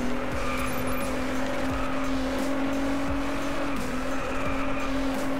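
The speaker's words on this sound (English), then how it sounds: "Driving the Nismo." A Nissan GT-R NISMO at speed in Driveclub, its engine droning steadily with repeated tire squeals through corners, loud and up close.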